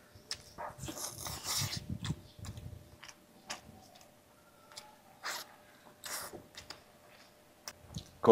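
A dog chews on pork meat and bones, sparse wet clicks and chomps up close in a quiet room, with pauses between bites.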